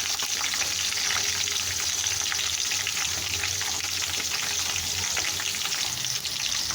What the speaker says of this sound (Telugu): పచ్చిమిర్చి కూడా ఆయిల్లో ఉడికిపోయి